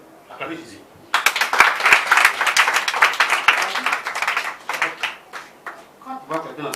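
Congregation at a prayer service applauds to acclaim Jesus: after a second of murmured talk, dense clapping bursts in and continues loudly with some voices, tapering into scattered claps near the end.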